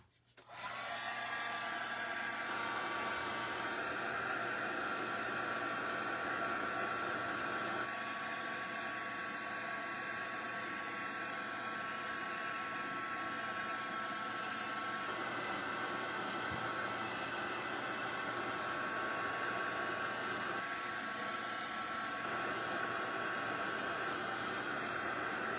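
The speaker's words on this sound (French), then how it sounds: "I'm going to dry this again." A hair dryer blows steadily and loud, drying mixed media on a repurposed vinyl record; it starts abruptly and holds a constant whir with a slight tonal hum throughout.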